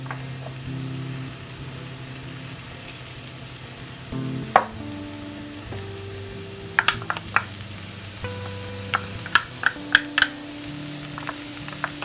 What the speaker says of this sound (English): the baby spinach in and just sauté it and get it so that it's pretty well cooked